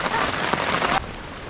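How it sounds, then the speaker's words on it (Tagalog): Rain falls in a steady hiss on surfaces and cuts off abruptly about two-thirds of the way through, leaving a quieter background. "O tara na, habang umuulan,"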